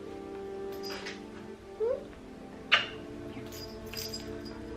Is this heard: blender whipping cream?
no